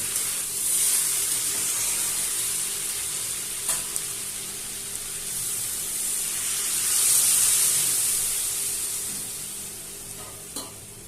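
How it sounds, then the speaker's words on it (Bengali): Boiled water poured into a pan of sautéing ingredients sets off a hissing sizzle that swells loudly midway and then eases, with a few sharp clicks of utensils along the way. "এবার সিদ্ধ করা যে জলটা ছিল ওই জলটা আমি এটাতে দিয়ে দেবো।"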